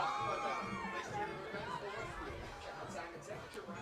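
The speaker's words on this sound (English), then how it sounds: "Cheer from the crowd." Crowd at a Westfield high school football game against the Fitchburg Red Raiders, a steady babble of voices and cheering that stays fairly even throughout, with a slight dip in the middle.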